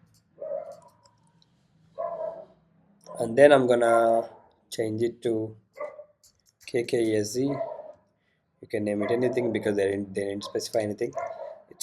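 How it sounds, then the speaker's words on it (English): A neighbor's dog barks in bursts in the background while someone talks continuously at close range, the barks interleaved with and partly masked by his speech. "It's a neighbor's dog. Whenever I try to create videos, it shouts, barks."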